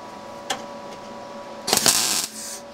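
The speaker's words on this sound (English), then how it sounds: "I'm just going to put a little tack of MIG in the centre." A MIG welder makes a single short tack weld in the centre of folded steel for an ash pan. A sharp click comes first, then a brief crackling buzz of about half a second, close and fairly loud.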